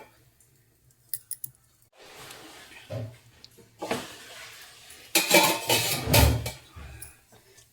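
A pot lid clanks down onto a cooking pot on a home stove, a few sharp metallic clatters and rattles up close, with faint kitchen handling noise around it.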